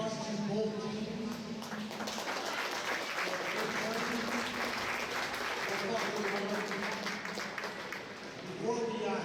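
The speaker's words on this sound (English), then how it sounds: "let's give a huge round of applause to both teams" A crowd at a youth hockey championship claps and applauds steadily for both teams for several seconds, a dense, even wash of hands that eases off near the end while an announcer's voice carries over it.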